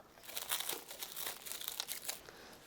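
Clingfilm being cut with scissors while preparing a tofu sandwich, a close, busy run of crinkling and rustling snips lasting a few seconds.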